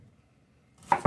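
A knife chops through food on a cutting board for BBQ beef sliders, two crisp close knocks near the end after a quiet pause, with no talking.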